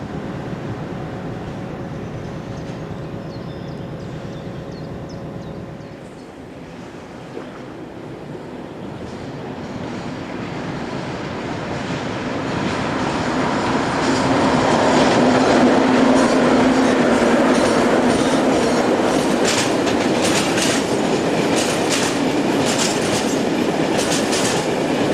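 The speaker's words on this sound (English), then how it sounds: "3010 is seen heading north after depositing a freight in the nearby reception sidings." Class 3000 electric locomotive 3010 heading north light after leaving a freight in reception sidings, a low hum at first, then a rising rumble and steady rail clatter as it passes close by.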